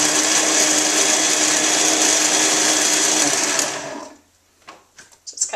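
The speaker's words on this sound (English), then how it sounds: "I'm going to take and just blend this up" A Vitamix blender running without its lid piece roars steadily as it purees vegetables into a slurry for cultured vegetables, loud and continuous for about four seconds, then cuts off, leaving scattered small clinks and knocks.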